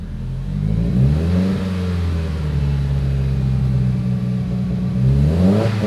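A Mitsubishi Evo 9 engine running lean at the top of the rev range during ECU base map tuning, revving up and holding a loud, close drone before dropping back and rising again near the end.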